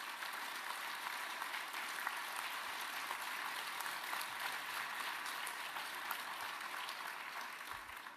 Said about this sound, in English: Applause for so many very qualified and very interesting and very passionate speakers.